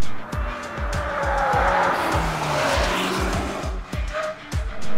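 A car on Kumho Ecsta PA31 tires corners hard on a dry test track, its engine revving and dropping in repeated bursts while the tires squeal loudly and continuously nearby.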